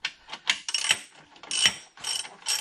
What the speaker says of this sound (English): Using a ratchet and a socket, I will remove this belt tensioning bolt completely out of the motor plate.